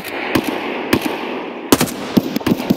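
Gunfire in the video game Escape From Tarkov: several sharp, loud reports in irregular groups, some doubled in quick succession, over a steady background hiss.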